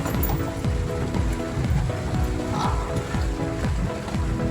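Steady heavy rain pours down, drumming densely on surfaces close by, with constant hiss and patter and no voices.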